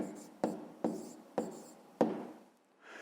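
A pen writing numbers on paper in a maths exercise about prices, with four distinct strokes or taps spaced through a soft scratching that fades near the end.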